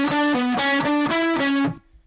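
Heavily distorted electric guitar plays the third bar of a riff: five or six evenly picked, buzzy notes in a steady rhythm, loud and up front, then cut off into near silence.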